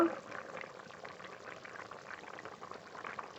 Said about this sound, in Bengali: এবার আর একটু ফুটিয়ে নেব